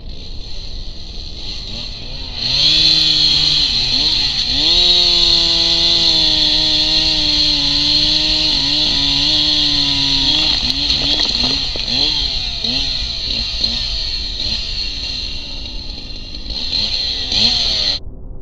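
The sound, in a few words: chainsaw hazard sawing in a video game (Urge)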